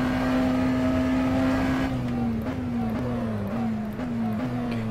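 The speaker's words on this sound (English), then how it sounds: "You can hear the tyres complaining under the braking zone" Tyres squealing under braking on a McLaren Senna GTR hypercar in the rFactor 2 racing game at COTA, a steady high squeal over loud engine drone that then steps down with downshifts as the car slows.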